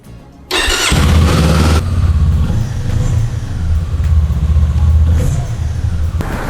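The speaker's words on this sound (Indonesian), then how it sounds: "sekarang kita penasaran juga suara mesin seperti apa, kita nyalain yuk" A Kawasaki Eliminator 500cc cruiser motorcycle starts up loudly and up close, with a brief cranking burst that catches into a steady, throbbing low idle. No voices are heard.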